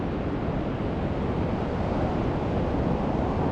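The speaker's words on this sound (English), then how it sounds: "Big ass wave just came in and covered everything" Ocean surf at Crooklets Beach in Cornwall washes in as one continuous loud hiss and rush of breaking water, steady with no gaps and mixed with wind buffeting the microphone, with no voices.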